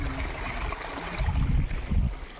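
Stream water flowing from a waterfall on a Konkan farm, a continuous rushing wash with deep rumbling surges, heard close without talk.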